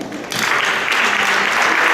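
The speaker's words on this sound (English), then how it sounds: "So once again, a round of applause for him." Loud, sustained audience applause at a temple festival gathering, dense clapping from a sizable crowd that swells in quickly and carries on steadily.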